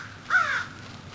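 A crow passing overhead at a hillside camp dining spot gives one clear, harsh caw, moderately close, against a quiet outdoor background.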